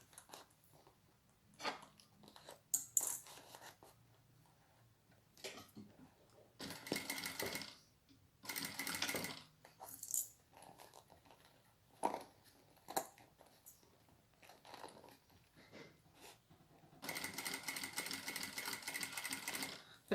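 Domestic sewing machine stitching fabric for a toilet paper holder, running in several short, separate bursts with quiet pauses between them, close and fairly soft, the longest run coming at the end.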